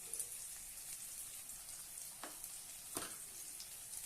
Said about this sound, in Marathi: पाव चमच गरम मसाला मी छानपैकी परतून घेऊया